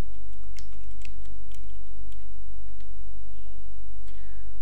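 An alias name is typed on a computer keyboard: quick, light key clicks in an uneven run over a steady low electrical hum, close and clear with no voices.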